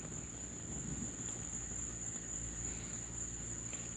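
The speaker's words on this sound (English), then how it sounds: "Yeah, they're tree frogs, yep." Tree frogs call at night in a steady, dense chorus that fills the background without pause, with no voices.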